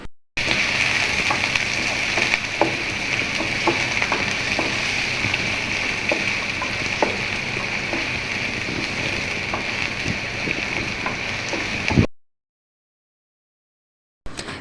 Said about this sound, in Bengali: পেঁয়াজটা আমি হালকা ব্রাউন করে ভেজে নেব।